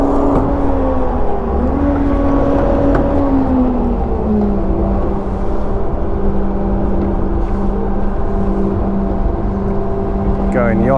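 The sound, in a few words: yacht engine running to power winch raising halyard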